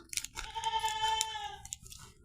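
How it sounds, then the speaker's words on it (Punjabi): A goat lets out a single drawn-out, wavering bleat at mid distance, with a few soft crunching and shuffling noises before and after it. "ਉਦੋਂ ਸਾਡੀਆਂ ਬੱਕਰੀਆਂ ਬੋਲਦੀਆਂ ਪਲੀਜ਼ ਇਗਨੋਰ ਕਰਿਓ"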